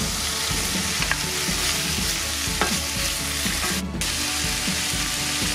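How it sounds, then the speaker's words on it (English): Polish sausage pieces and onion sauté in a pan, giving a loud, continuous sizzle with repeated scraping and clacking stirs throughout, close and with no talk. "Saute and mix for 10 to 15 minutes until sausage is brown and fully cooked."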